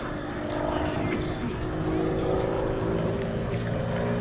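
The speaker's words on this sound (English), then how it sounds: "What a brilliant performer this aircraft is" A home-built aerobatic aeroplane performing a flying display at the Duxford Battle of Britain Air Show, its propeller engine droning steadily from a distance with a slowly shifting tone across the sky.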